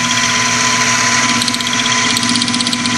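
A lathe takes a 50 thou cut on a steel crankshaft blank for a model steam engine, with cutting fluid applied, giving a steady loud machine drone and humming motor tone throughout, no talk.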